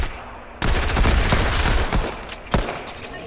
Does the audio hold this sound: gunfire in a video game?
yes